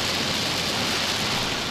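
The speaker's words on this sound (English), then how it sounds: "Torrential rain at the end of March." Torrential rain from a black rainstorm in Hong Kong, a dense, steady hiss of heavy downpour at constant loudness with no voices.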